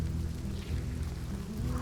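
Heavy rain in a video game during a chaotic server-wide fight, a steady dense broadband hiss of downpour with low rumbling underneath, continuous and fairly loud throughout with no talk.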